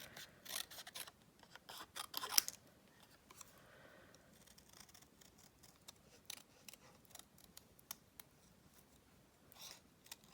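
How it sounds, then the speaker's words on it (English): Scissors trimming paper for a folded craft card, a few quick close snips in a cluster near the start, then sparse quiet cuts and faint rustling, with another short snip near the end. "And then we trim them"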